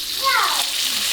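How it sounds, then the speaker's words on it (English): A quarter cup of water poured into a pan of garlic and cilantro frying over low heat, giving a loud, steady sizzling hiss with a brief bubbling burst near the start. "I'm going to add some 1/4 cup water."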